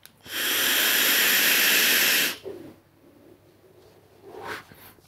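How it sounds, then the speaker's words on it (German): Vapour is drawn through a GeekVape Aegis Legend mod with an Aero Mesh tank and mesh coils at 75 watts: one loud, steady airy hiss lasting about two seconds, then a quiet room with a faint soft rustle afterwards. "Aber jetzt dampfen wir mal."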